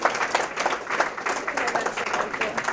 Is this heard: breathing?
no